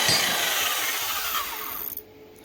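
A band saw cuts through metal for a tree house bracket, a dense, close, continuous rasping grind for about two seconds before the blade breaks free and the noise drops away.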